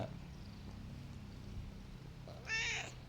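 A very affectionate former street cat gives one clear, drawn-out meow close up, after a stretch of low, steady purring and soft background hum.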